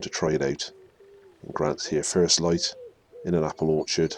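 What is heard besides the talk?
wood pigeons calling in apple orchard at first light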